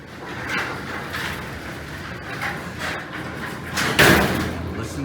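A 1910s manual Otis freight elevator gate in Elgin, Illinois is pulled shut, rattling and sliding for several seconds before ending in a solid metallic slam near the end, close and fairly loud amid faint background sound.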